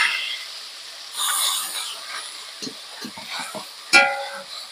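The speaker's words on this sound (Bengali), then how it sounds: "পেঁয়াজটা খুব ভালো করে ভেজে নেব।" Ground onion paste frying in oil with whole garam masala for a Bengali doi katla fish curry, a steady close sizzle with stirring scrapes and one sharper clatter near the end.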